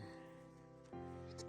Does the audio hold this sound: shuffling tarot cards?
no